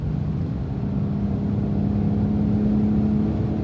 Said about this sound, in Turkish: direkt direksiyon hissiyatı sertleşti, motor sesi değişti, egzoz değişti